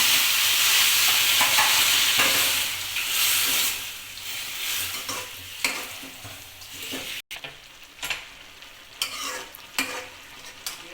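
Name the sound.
hot water added to frying vermicelli upma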